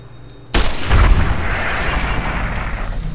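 A single loud, booming gunshot in the video game Fallout New Vegas hits sharply and then rolls into a long echoing rumble that fades slowly.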